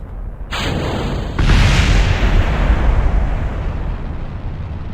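Rocket engine burn at two-thirds throttle in Kerbal Space Program, a sudden loud roaring ignition after a short tone, then a sustained heavy rumble that slowly eases, with no speech.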